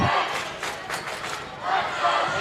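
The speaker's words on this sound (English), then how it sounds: "The crowd is loving it for them." A crowd in a gym at a high school basketball game cheering and shouting in rising and falling swells, fairly loud and reverberant, with a louder burst of yelling near the end.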